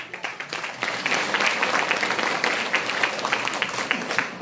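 An audience applauds at a DXN business opportunity meeting in Janakpur, Nepal, a fairly soft, steady patter of many hands clapping together for several seconds, with no talk over it.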